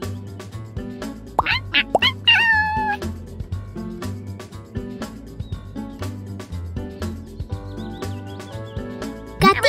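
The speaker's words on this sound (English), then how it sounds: "Let's be kitty helpers by taking care of Gatita." An animated kitten meows repeatedly in a children's pet-care game, high and clear, over light looping music and cheerful sound effects.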